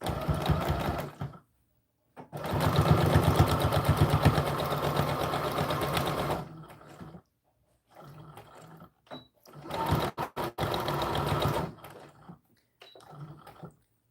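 A sewing machine stitches the bodice of an American Girl doll dress, running in several bursts of steady mechanical whirring separated by brief pauses, with a long forward run and shorter reverse passes to tie off the thread, close and clear.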